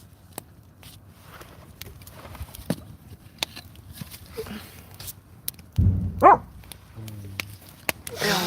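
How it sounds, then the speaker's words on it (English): Dogs bark in scattered, sharp outbursts at a backyard outdoor cooking fire, several loud barks near the end, with footsteps and quiet background noise between. "They always bark for that too."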